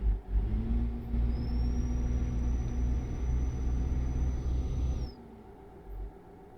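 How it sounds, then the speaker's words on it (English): A truck engine in Euro Truck Simulator 2 drones and rumbles steadily with a rising, high-pitched turbo whistle over it, then cuts off abruptly, leaving a quiet hum. "I love the sound of this engine, the whistle of the turbo noise"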